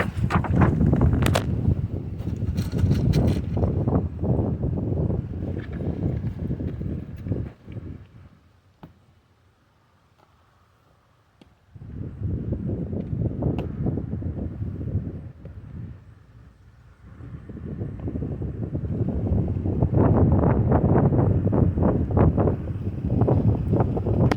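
Heavy wind buffeting the microphone at an outdoor 200-yard shooting range, in long roaring gusts, dropping to near quiet for a few seconds in the middle before blasting back.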